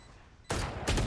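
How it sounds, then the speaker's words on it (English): Killjoy's swarm grenade in the game Valorant bursts in two quick, loud crackling blasts, a rapid fusillade-like pop followed by a second surge about a third of a second later. "Swarm grenade out."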